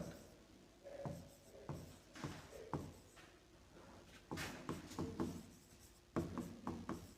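Someone writes on a board during a Hindi-language grammar class, with irregular short scratchy strokes and taps spread across the clip, fairly quiet, over a soft room background and no clear talk.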